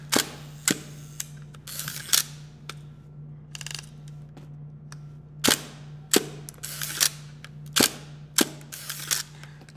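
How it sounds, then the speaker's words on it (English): A Hasselblad film camera fires its shutter several times at close range, each release a sharp mechanical snap and clack, some followed by whirring winding movement, over a steady low hum. "Just the sound that this Hasselblad makes that, I don't know, it makes me smile."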